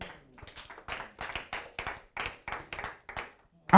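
A church congregation claps in acclaim of God, with rapid, uneven hand claps close by that swell and thin over a few seconds.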